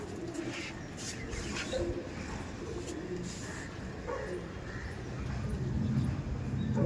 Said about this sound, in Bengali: আর এটা হচ্ছে মাদি পায়রা